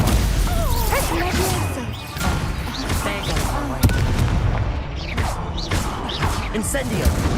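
Combat spell casting in the video game Hogwarts Legacy, with the Stupefy stunning spell among repeated blasts, crashes and impacts, dense and loud throughout alongside game voices.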